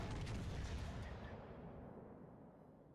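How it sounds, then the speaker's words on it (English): Heavy battleship gunfire in a naval warfare video game, with large ships like the Yamato and Musashi: a deep, booming roar that opens loud and then rumbles and fades slowly over a few seconds, with no voices. "Concentrate fire on the enemy warship."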